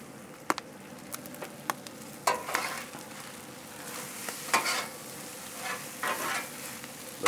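Smoked pork belly fried rice with island stir fry sizzles on a Blackstone 22-inch griddle, a steady close hiss broken by sharp scraping clicks and stirring bursts from a spatula.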